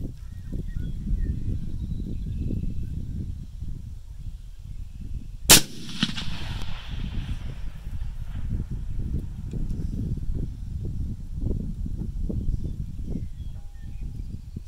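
A single sharp, loud rifle shot cracks out from a Uinta Precision UP10 bolt-action rifle firing at long range past a mile, over a steady outdoor wind rumble, with a brief echoing tail.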